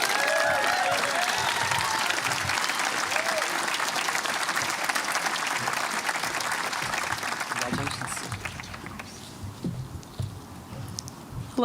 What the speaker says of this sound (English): please join me in a round of applause as we welcome to the stage Miss Ava Buchanan